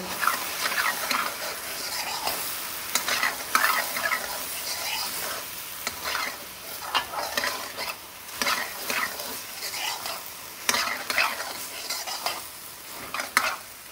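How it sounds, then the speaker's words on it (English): Beef mince for a keema curry with peas cooks in a pan with a steady sizzle, broken by repeated scraping stirs and brief utensil clatter, close and moderately loud with no talk. "meat has been cooking away for a good 6 to 8 minutes"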